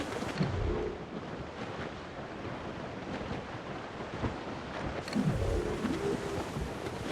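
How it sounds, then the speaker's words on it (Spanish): Stormy wind at sea in Assassin's Creed Rogue, a broad continuous rushing roar with gusty swells, surging louder near the start and again toward the end. "¡Una tormenta! ¡Soltadla toda y aprovechad el viento!"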